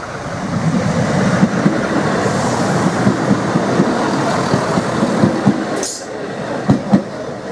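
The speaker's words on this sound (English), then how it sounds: "Obviously, some sort of special train." A special train rumbles steadily past a level crossing at Rye, East Sussex, with a rhythmic clatter of wheels over the rails, then a brief hiss and a few sharp clacks near the end.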